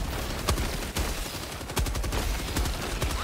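Machine gun fire in the video game Helldivers 2, loud sharp bursts of shots cracking at irregular intervals over a dense layer of battle noise, with no talking.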